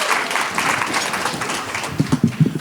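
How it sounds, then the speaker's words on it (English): Applause from a conference audience at the close of a panel session, a broad wash of clapping that gives way to a few louder, distinct claps near the end. "A round of applause here."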